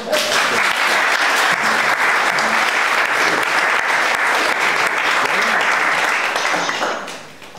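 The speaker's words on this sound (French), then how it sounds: "vous pouvez vous applaudir" Steady, dense applause from a large theatre audience at a bingo-themed stage show, loud and sustained for several seconds before tapering off at the end, with a voice faintly mixed in.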